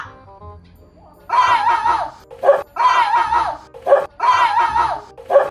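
A dog barks in repeated bursts, each a cluster of loud, nearby yaps followed by a short sharp yip, in a steady rhythm after a brief quiet start.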